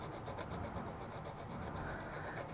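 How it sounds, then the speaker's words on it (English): A small sanding stick rubs a line into the anodized preload collar on a shock of a 1/8-scale HB Racing D8 competition buggy, giving a steady, close, faint rasping scrape with no talk. "So just got a little sanding stick and I've just got the anodizing and just made a line in it."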